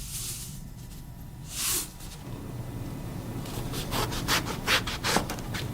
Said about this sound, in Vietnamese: Trong lúc chờ đợi thì mình đi cắt cà tím.